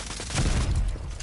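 A grenade blast in the shooter game Rogue Company, a dense low rumbling burst that swells and holds for about a second amid scattered gunfire, loud and fairly close.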